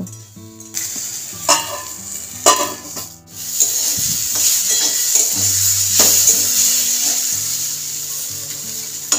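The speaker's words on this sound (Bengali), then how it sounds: "এবার পটলটাকে ঢাকা চাপা দিয়ে দিয়ে খুব ভালো করে ভেজে নেব।" Pointed gourd with turmeric and salt fries in a pan, first with a few clatters and stirring scrapes, then a continuous loud sizzle that fills the rest.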